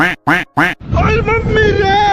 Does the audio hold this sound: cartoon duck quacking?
yes